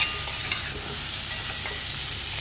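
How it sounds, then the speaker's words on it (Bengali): Pumpkin fries with ginger, cumin and coriander powder in a pan, giving a steady close sizzle broken by a few light clicks of stirring, with no voices. "একটু যখন ভাজা ভাজা হয়ে যাবে, কুমড়োটা একটু সেদ্ধ হয়ে আসবে"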